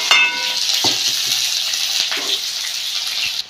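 Garlic, onion, ginger and chili frying in hot oil in a kadhai, a loud close hiss of sizzling with a few sharp spatters and stirring knocks, short and continuous, no voices.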